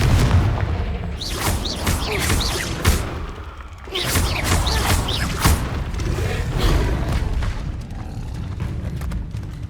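Confringo fire spell blasts in the video game Hogwarts Legacy, repeated loud booming explosions with whooshing bursts and crackling debris, dense and continuous over a rumbling combat backdrop.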